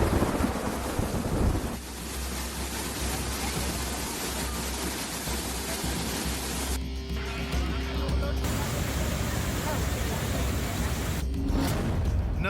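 Heavy monsoon rain pours in a steady, dense hiss across India with low rumbling thunder underneath, a constant wash of noise that briefly thins twice.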